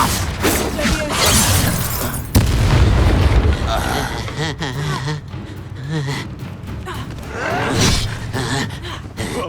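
Explosive Confringo spell blasts in a Hogwarts Legacy battle: loud booming bursts and crackling impacts, with a heavy hit near the two-second mark, amid a dense combat soundscape and in-game voices.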